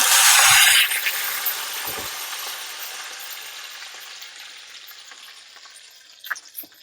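A loud burst of sizzling as mustard seeds, cumin and curry leaves hit hot oil, then a long crackling hiss that gradually fades, with a few clinks near the end.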